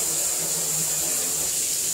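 Water running steadily down the drain of a self-cleaning reptile cage during cleaning, a continuous close rushing wash with no breaks.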